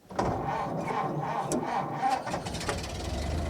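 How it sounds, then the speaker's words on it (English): A small vintage car engine cranks with choke and catches, settling into a steady, fairly loud running hum with a light mechanical rattle. "that's ignition and she's running"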